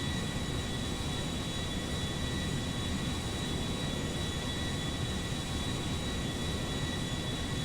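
A Boeing 787 airliner in a GTA 5 mod flies beneath the clouds, heard as a steady, loud broadband engine roar with a thin high whine, unchanging throughout and with no voices.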